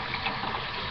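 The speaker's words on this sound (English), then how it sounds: "So I'm going to turn on the water, and it's just going to run right off my hands" Tap water splashing over hands, a brief steady rush of running water close by with no voices.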